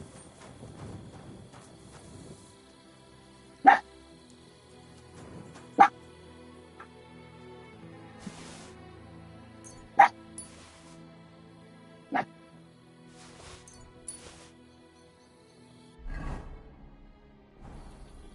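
A dog in the video game Kingdom Come: Deliverance II gives four sharp, separate barks spaced a couple of seconds apart, loud against a quiet background of soft ambient movement and a low thump near the end.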